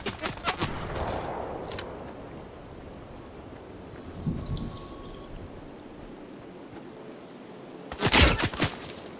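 Sniper fire from a DMR rifle in Fortnite: a few sharp cracking shots near the start, a quieter muffled thump midway, then a loud burst of close shots near the end over a low game-ambience bed.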